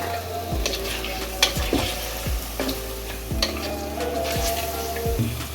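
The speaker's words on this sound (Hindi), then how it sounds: "इसमें हाफ केजी मटन वो शामिल कर दें और इसको लहसुन अदरक के साथ भून लें" Half a kilogram of mutton with garlic and ginger sizzles loudly and steadily in a hot pan, with spoon-stirring scrapes and clinks repeating throughout; no voices.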